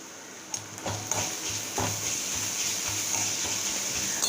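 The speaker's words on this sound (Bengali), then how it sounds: "আদা রসুনের কিমাটা একটু খানিকক্ষণ ভেজে নেব" Minced garlic and ginger sauté in a pan with dried chillies and onion, a steady close sizzle carrying light, rhythmic clinks and scrapes of a stirring utensil.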